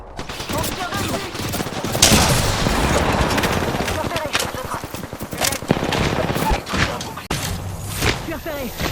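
Dense gunfire in an Apex Legends shootout, rapid bursts and single cracks layered over one another for the whole stretch, loud and close, with a voice talking underneath.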